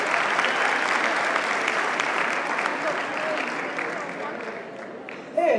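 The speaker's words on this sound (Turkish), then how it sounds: "kocaman bir alkış verebilir miyim?" A seated audience at a careers event breaks into sustained applause, a thick, even clatter of many hands that stays strong and gradually eases slightly before a brief final bump.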